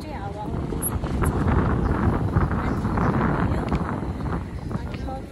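Wind blows across a muddy mountain trail near Manang in the Annapurna region after rain. It makes a continuous buffeting roar against the microphone that swells and eases over a few seconds.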